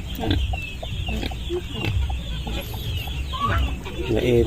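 A hen clucks in short bursts at close range, with other chickens and a rooster around her on a farm, while people talk intermittently over the steady background.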